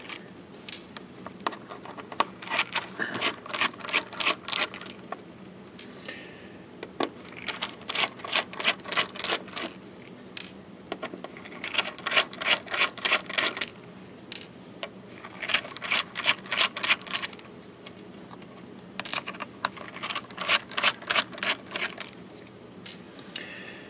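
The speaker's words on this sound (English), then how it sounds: "So we'll just take the screws out." Small screws are being removed from a hard disk drive by hand, giving repeated bursts of fine metallic clicking and ratcheting at close range, separated by short pauses and light handling noises.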